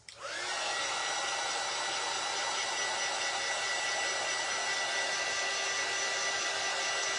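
A hair dryer blows steadily on painted stencil transfers, a loud, even whoosh that starts abruptly and runs unbroken, with no voices.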